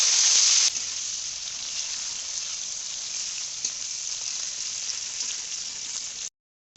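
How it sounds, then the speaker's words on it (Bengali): Chopped onion frying in hot oil with bay leaf, dried chilli and cumin for Kashmiri egg curry: a loud initial hiss as it goes in, then a steady, close, even sizzle that cuts off abruptly at the end. "এবার পেঁয়াজ কুচি দিয়ে দিচ্ছি"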